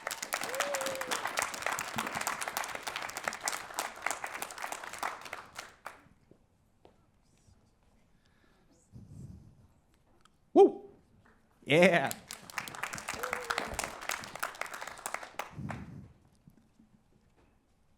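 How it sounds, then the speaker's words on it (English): Audience cheering and clapping at a poetry slam as second place is announced, a burst of applause and whoops that fades to quiet, then speech and another brief swell of clapping and cheers. "please give a big round of applause for Wren Feuerhelm."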